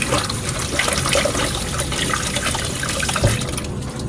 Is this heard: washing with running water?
yes